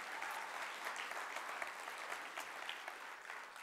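An audience claps steadily throughout, a continuous wash of many hands from a crowd at a distance, fairly soft and even with no speech over it.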